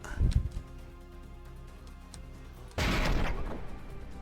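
A cannon fires AP frag shells in the From the Depths video game: a low thudding boom at the start, then a sudden sustained roaring blast a few seconds later, over a constant mechanical hum.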